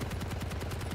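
Rapid automatic gunfire from a Quake Champions deathmatch, a fast even stream of close, loud shots with no talk.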